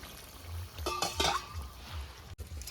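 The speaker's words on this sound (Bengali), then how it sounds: "তো আমি জলটা ঢেলে দিয়েছি" Hot water is poured into a pot of chicken curry, making a brief splashing gush with a clank of the pot, then quieter bubbling and stirring.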